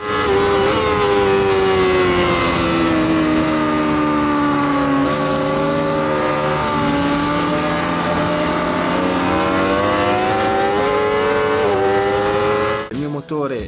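Race car engine at high revs during an overtake in a circuit race, one Porsche-like V4S nearby; a loud continuous whine with smoothly shifting pitch, a gear change near the end.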